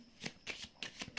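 Tarot cards shuffled up close, a few quick papery riffles and slaps in a soft rhythm, quiet and without talk.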